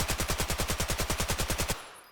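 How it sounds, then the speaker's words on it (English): SCAR-H rifle fired in full auto in the game Incursion Red River, a rapid, evenly spaced burst of about fifteen loud shots that stops abruptly and leaves a short fading tail. "This is Scar H."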